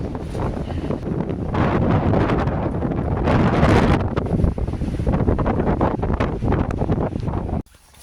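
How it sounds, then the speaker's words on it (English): Strong wind buffets the microphone in a steady, roaring rush with gusty swells, loud and close, cutting off abruptly near the end. "It's sitting there shaking back and over in the wind."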